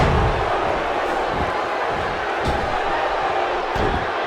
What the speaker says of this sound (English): You can hear the crowd wooing.